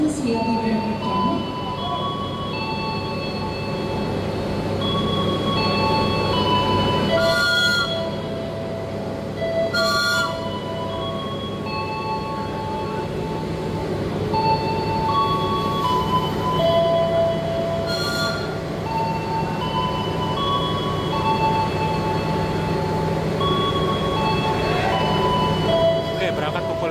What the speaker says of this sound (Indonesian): Kereta api Argo Merbabu dari jalur 1 siap diberangkatkan